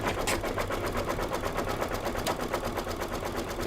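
An embroidery machine sews dense satin stitches in a rapid, even mechanical rattle, a continuous close-up chatter of needle strikes with no pauses or voices.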